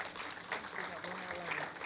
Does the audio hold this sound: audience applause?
yes